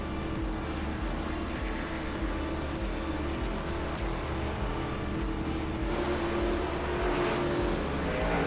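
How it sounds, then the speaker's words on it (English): Twenty-nine race cars circle the Las Vegas Motor Speedway in an online racing game, a dense, constant engine drone with pack noise swelling and passing under faint commentary. "We got 29 cars on the track."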